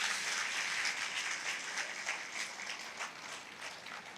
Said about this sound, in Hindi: एक जोरदार तालियां खुद के लिए